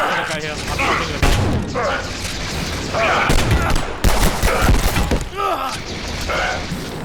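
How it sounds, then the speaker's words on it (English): Shotgun and other gunfire in a first-person video game, heavy booming blasts and crashes mixed with dense game effects, while players talk excitedly over the action throughout. "Oh shit, shotgun here. There's a guy here. I'm shooting him."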